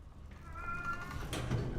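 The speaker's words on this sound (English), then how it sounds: "Hope you cannot hear my cat." A pet cat meows once indoors, a short clear tonal cry at moderate distance over low room hum and faint game sounds.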